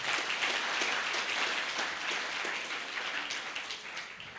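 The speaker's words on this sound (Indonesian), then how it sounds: "Tepuk tangan kepada para top leader ini." An audience at a leaders' gathering in Surabaya applauds continuously, a dense wash of many hands clapping at steady volume throughout, no voices.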